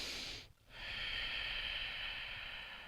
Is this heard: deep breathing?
yes